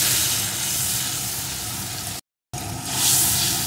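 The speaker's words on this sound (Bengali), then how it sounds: "মশলাটাকে একটু কষিয়ে নেব।" Spice paste sizzling and frying in a pan for a vegetarian ol (elephant foot yam) curry, a steady close hiss, briefly cut out, then resuming louder.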